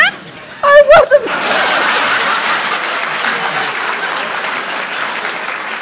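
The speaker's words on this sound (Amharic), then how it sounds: "ብራቮ አጨብጭቡላት" An audience claps for a child performer at a comedy show; after a brief voice and laugh at the start, loud, dense applause rises and holds steady to the end.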